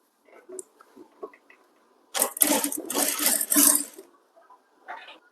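A sewing machine stitches thread piping onto a designer blouse, a dense whirring run of about two seconds in the middle, with quieter scattered handling noises before and after.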